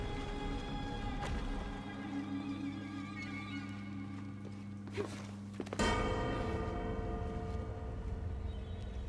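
Bell ringing in the video game Shadow of the Tomb Raider, heard as deep resonant bell tones with sustained hum over thuds and footstep-like knocks, then a sharp clank and a fresh struck tone near the end.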